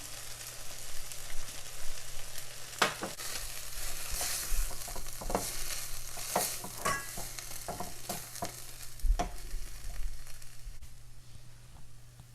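An asparagus stir fry with grated coconut cooking in a pan, soft steady sizzling broken by repeated clicks and scrapes of a spatula stirring, fairly quiet and close, with no talk.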